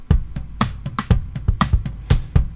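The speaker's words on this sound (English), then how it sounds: "it sounds like this, with tom pattern 1 layered over kick and snare pattern 1." Logic Pro Drummer toms layered over a kick and snare pattern play a busy, driving groove: deep tom hits and kick thumps interleave with sharp snare cracks, close and loud, with no voices.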